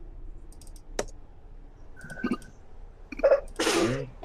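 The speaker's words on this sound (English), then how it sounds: "Bless you to whoever sneezed." A single sharp sneeze near the end, preceded by a few scattered clicks and a brief tone in a quiet room.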